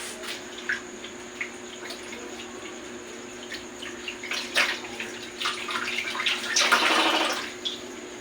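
Water running and splashing as a patient is rinsed during a complete bed bath, faint scattered trickles and drips building to a louder, fuller gush of water near the end, with no talk.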